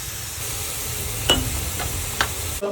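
Stirring zucchini sauce with pasta in a pan for a Sicilian pasta 'ncasciata, a steady sizzling hiss under a few light utensil scrapes and knocks against the pan.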